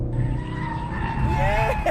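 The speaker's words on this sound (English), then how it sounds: "Give me a bootful, see if it'll skid." Car tyres skid and squeal under full throttle over a steady, loud engine roar, with the high squeal growing stronger toward the end.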